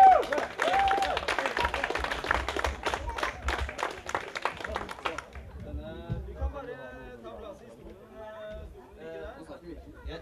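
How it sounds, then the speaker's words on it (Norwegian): Festival crowd applauding an organiser on stage, a burst of clapping with chatter that fades after about five seconds as voices take over. "En applaus, Yngve!"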